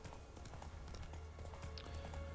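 Horse hooves clip-clop steadily across open ground in The Witcher 3, a quick trotting rhythm at moderate distance over a soft ambient game backdrop, with no voices.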